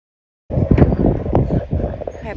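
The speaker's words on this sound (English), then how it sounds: "I apologize for the wind noise" Gusty wind buffets a microphone outdoors in a cattle pasture beside garden spaces, a loud rumbling roar that starts abruptly and continues with a voice partly under it.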